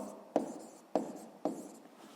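Pen or chalk writes a digit by hand during a fifth-grade maths exercise, three distinct taps with short scratchy strokes spaced about half a second apart, close and clear.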